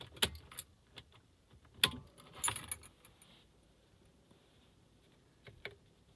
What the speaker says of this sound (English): Now when I turn off the ignition and turn it back on again,